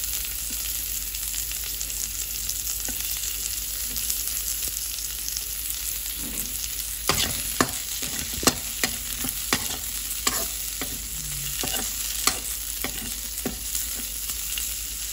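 Onions sautéing in a hot pan for pancit miki guisado: a steady sizzle runs throughout, broken by sharp scraping stir strokes that cluster in the second half, with no voices.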